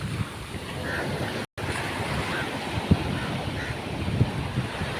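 Sea waves wash steadily around the collapsed Valiyathura pier, a continuous close surf roar with wind buffeting the microphone and a brief dropout near the start.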